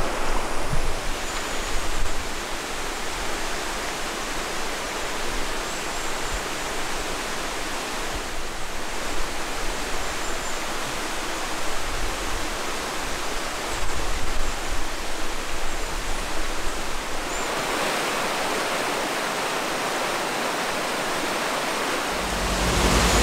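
A river in Japan rushes beneath a bridge, a steady broadband roar of flowing water that stays loud and unbroken throughout, with no voices.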